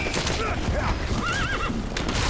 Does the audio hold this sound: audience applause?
no